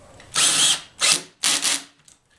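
A power drill drives a screw into the head of a used oak wine barrel, heard as three close, loud whirring bursts of varying length separated by short pauses.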